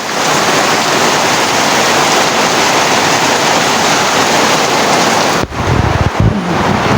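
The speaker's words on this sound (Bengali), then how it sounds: "অনেক বৃষ্টি।" Heavy rain pours down in a steady, dense roar, with a brief shift in the sound near the end.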